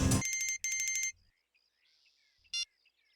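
A telephone rings in two loud electronic bursts, then a short third chime follows after a near-silent pause, heard alone without any talking.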